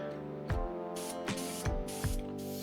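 Short bursts from an airbrush spray gun laying a white base coat onto a fishing lure, four hissing puffs with brief pauses between them, close and fairly loud over a steady low mechanical hum.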